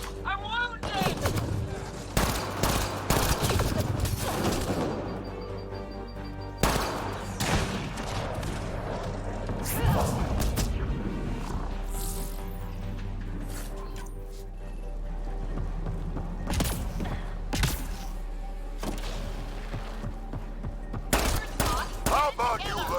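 A firefight in Mass Effect Andromeda, with bursts of rapid gunfire cracking in clusters over about twenty seconds, loud and close, separated by brief lulls; voices talk between and under the shots.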